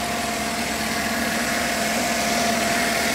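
A 2013 Chevy Tahoe PPV's 5.3 Vortec V8 idles steadily and smoothly at close range, a low even drone with a faint tonal whine and no talking.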